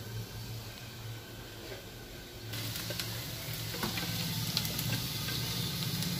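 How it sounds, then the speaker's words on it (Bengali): Sliced potatoes fry in a pan with a steady oily sizzle that grows louder and busier about halfway through, crackling close by with no voices over it. "বন্ধুরা আলু ভাজা হয়ে গেল।"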